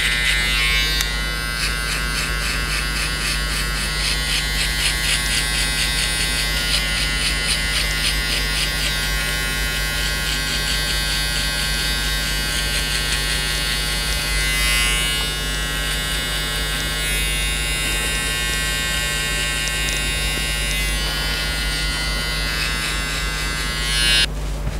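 An Andis foil electric shaver runs continuously against hair during a barbershop skin fade, a steady close, loud buzzing drone with slight changes in texture as it moves over the head, and no talking.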